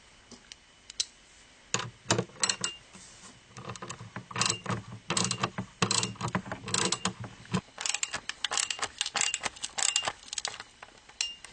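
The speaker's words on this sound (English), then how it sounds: "Now we're going to tighten down the spanner nuts on each side." Spanner nuts on each side of a scope mount on an SKS rifle are tightened, giving a long run of close metallic clicks and scraping taps. The clicks are irregular and steady throughout, with no talking.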